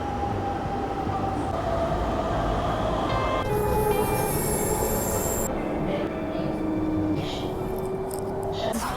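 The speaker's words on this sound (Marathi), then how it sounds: "येणार आहे माझी मेट्रो." A metro train pulling into an empty elevated station in Mumbai, its rumble filling the platform as the wheels screech in long, high-pitched squeals that start and stop while it slows to a halt.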